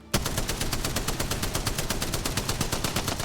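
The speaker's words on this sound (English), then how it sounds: "Alright, I'm going to shoot right here. We're going to see what it does." Spitfire machine gun in Apex Legends firing one sustained, rapid automatic burst at a steady fast cadence, loud and close with no talk over it.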